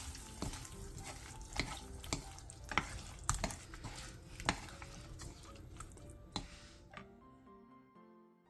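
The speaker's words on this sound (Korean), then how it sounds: "불을 끈 뒤 들기름 1티스푼과 다진 고추, 통깨를 넣고 가볍게 뒤적여 마무리해주세요" Seasoned tofu being stirred in a pan with perilla oil, chopped chili and sesame seeds after the heat is off, giving a run of soft, irregular scraping and clattering stirs over a faint sizzle.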